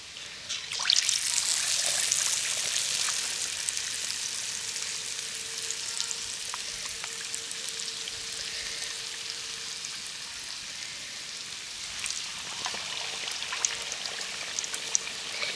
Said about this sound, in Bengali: একই রকমভাবে আবারও দিয়ে ছেড়ে দেব তেলের মধ্যে